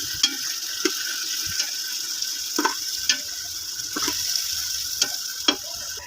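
Masala with added water sizzles in a pan while being stirred and roasted for street-style fried mash daal, a steady hiss broken by repeated scraping clicks of the spoon at a moderate distance.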